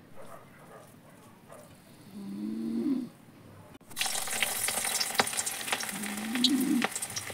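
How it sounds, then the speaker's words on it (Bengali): Veg manchurian balls made with cornflour and rice flour are deep-frying in oil, a bright crackling sizzle that starts quietly and then swells loud and steady, with a couple of short low rumbling sounds in between. "সবগুলো ফ্রাই করে নিব।"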